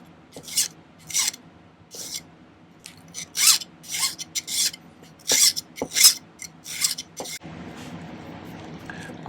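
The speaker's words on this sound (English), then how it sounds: "Just doing a little cleanup filing on the band." A metal file rasps over a cocktail ring band during cleanup, with a rhythmic series of about a dozen short, close, bright strokes separated by brief pauses before the filing stops.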